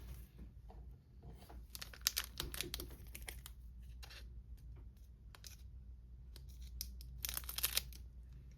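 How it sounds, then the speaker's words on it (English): Scissors snip and slice through the foil wrapper of a Disney Lorcana trading card pack from the Reign of Jafar Illumineer's Trove, a series of crisp, close cuts and crinkles in short bursts over a low background hum. "I want to get my scissors for this one."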